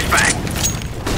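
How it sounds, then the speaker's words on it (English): Flashbang grenade readied and thrown in Counter-Strike: Global Offensive, a short metallic mechanical clack and rattle over a steady game background, with a brief whistling tone at the start. "Deploying flashbang."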